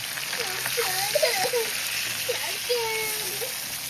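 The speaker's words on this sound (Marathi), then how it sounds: "एकदम ताजे ताजे चढणीचे मासे आणलेत आणि तव्यावरती मस्तपैकी फ्राय करायला टाकलेत" Fresh chadhniche fish fry on a hot tawa with a steady, soft crackling sizzle, while people talk over it throughout.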